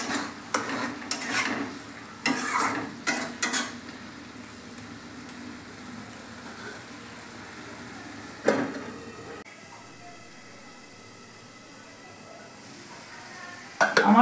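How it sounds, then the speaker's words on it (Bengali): Pointed gourd (potol) is stirred in a pan with sugar, producing a few loud scrapes and clatters early on and again mid-way, then a quieter low sizzle. "দিয়ে এবার আমি পটলগুলি দিয়ে দেবো। পটলগুলি দিয়ে নাড়িয়ে চাড়িয়ে আমি একটু ঢাকা দিয়ে দেবো।"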